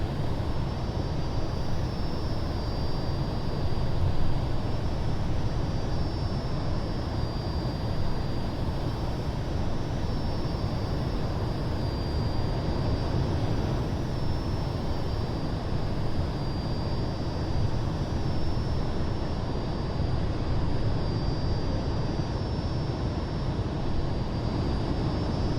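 Aircraft in flight in a DCS/MSFS flight simulator, a constant droning engine roar with a steady high whine, loud and unchanging throughout without talk.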